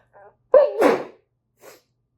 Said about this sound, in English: There's a third sneeze.